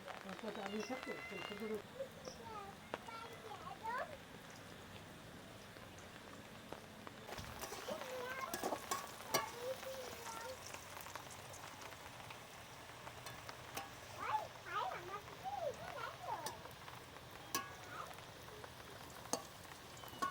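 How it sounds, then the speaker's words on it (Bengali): Potatoes sizzling and frying in a pan over a village cooking fire, a low continuous crackle with scattered sharper pops and stirring clatter, while people talk nearby. "এই যে আপনারা এরকম লাল লাল করে আলুগুলো ভেজে নেবেন।"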